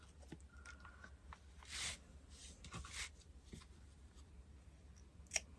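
Scissors snip through fabric while cutting a sunflower petal, a few quiet, close, irregular crisp cuts and rustles against a low background hum.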